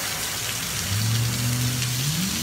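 Heavy rain during a tornado warning, a dense steady hiss of rainfall with a rising engine hum from a passing vehicle or truck underneath, no voices.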